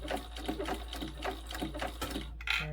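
A sewing machine stitches a bag straight toward a marked dot, a steady, fairly quiet mechanical whirr with a short stop and restart near the end.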